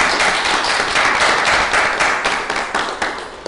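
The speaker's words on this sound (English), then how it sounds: "Can we give them a round of applause?" A close, loud round of clapping from a class audience, with many hands beating in a dense, slightly uneven patter that holds steady for a few seconds before thinning toward the end.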